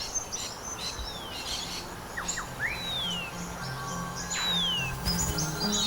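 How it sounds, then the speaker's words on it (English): Several birds call in lush Australian rainforest in the Great Dividing Range, with clear whistled swoops and sharp chirps scattered over a steady bed of insect buzz and ambient hiss. "Here among this lushness, there's a dazzling array of birds."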